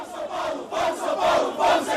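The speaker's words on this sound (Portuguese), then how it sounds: "A torcida de São Paulo comemora o Vamos Ser Campeão, no caso, celebrando a classificação para a final" A stadium crowd of São Paulo football fans roars together after their team beats Atlético Goianiense to reach the final, a dense, loud wall of voices pulsing in rhythmic chant-like surges.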